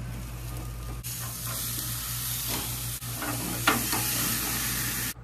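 Steaks sizzling on a hot grill as they are flipped, a steady loud frying hiss that swells briefly with each turn, with no talk.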